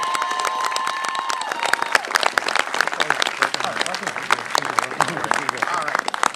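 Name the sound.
applause for Tyree Wood at Lowe's opening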